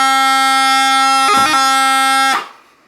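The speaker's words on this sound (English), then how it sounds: "If the D grace note is on the beat, it sounds like this." A bagpipe chanter plays a B doubling with the D grace note on the beat: a loud, steady reedy drone-like tone with a quick grace-note flicker in the middle, then a clean cutoff near the end.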